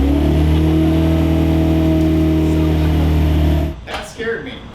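A 1JZ-swapped Lexus SC300 engine runs loud and close with a steady, droning roar, then cuts off abruptly near the end, leaving some brief scattered noise.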